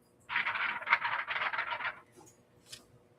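A sheet of 28-pound paper shaken by hand makes a close, brisk papery rattle lasting under two seconds, then a brief faint rustle; no voices.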